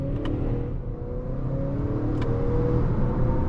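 A 2025 Acura TLX engine hums from inside the cabin as the car accelerates, a steady moderate drone with rising pitch and a couple of brief clicks, no one talking.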